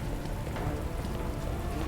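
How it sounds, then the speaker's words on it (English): Heavy rain in the Resident Evil 2 (2019) video game falls as a dense, steady hiss with pattering drops, loud and continuous and with no voices. "But the rain effects, oh my god."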